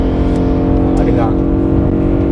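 BMW E92 M3 with its V8 engine idling or revving steadily nearby, a continuous low rumble that holds throughout, with no talk over it.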